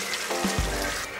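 Strained tamarind water pours into a pot of fish curry, a short, close, steady liquid splash and gurgle lasting about a second.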